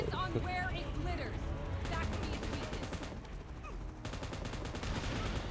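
Rapid bursts of automatic gunfire in PUBG Mobile during an event mode battle against a Titan, steady and dense throughout, with a person talking excitedly over the shooting.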